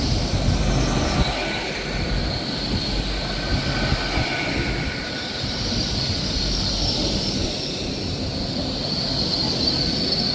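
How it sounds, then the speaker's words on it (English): An LNER passenger service from Aberdeen to London King's Cross rolls into Montrose station, a steady, loud rumble of wheels and carriages with faint metallic squeals running throughout. "in now is the 1428 LNER service from Aberdeen to London King's Cross."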